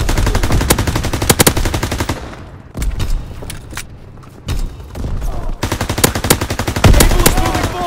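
Rapid automatic machine gun fire in a WWII video game, loud close bursts of tightly spaced shots broken by brief pauses, then resuming in long rattling strings.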